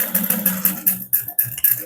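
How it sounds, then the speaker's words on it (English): A sewing machine back stitching across the top of a handbag divider pocket, running in quick rhythmic pulses close by with a brief pause midway. "you can back stitch across the top of that divider pocket just to give it some"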